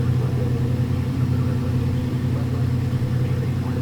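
A propeller aircraft engine in X-Plane 11 runs at raised RPM around 2400, a steady, droning hum with a low rumbling tone and no break across the few seconds.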